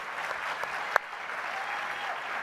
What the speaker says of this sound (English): I want to give a round of applause to our artists here.